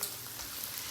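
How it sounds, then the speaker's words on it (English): Onions and garlic sautéing in a pan, a steady broadband sizzle that stays even and continuous through a brief moment, close but fairly quiet, with no voices. "Okay, so we've got the onions and the garlic sauteing now"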